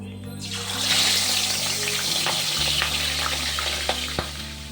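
Fish pieces coated in salt and turmeric cook in a pan with a loud, continuous close-up sizzle and hiss. A few crackles and pops come near the end, with no voices.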